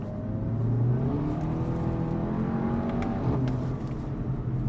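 A Skoda Octavia VRS230 accelerates hard to overtake, its engine note climbing in a rising, sustained roar heard from inside the car. No one speaks.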